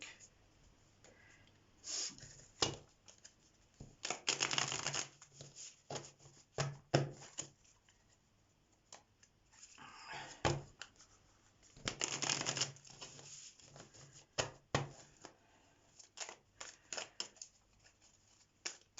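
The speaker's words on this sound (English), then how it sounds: "we're going to pull from this deck, the Golden Art Nouveau deck." A Golden Art Nouveau tarot deck is shuffled by hand in repeated papery riffling bursts and soft slides, near and moderately quiet, separated by short pauses.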